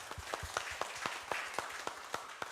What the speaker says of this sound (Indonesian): Mari kita sambut dengan tepuk tangan saudara kita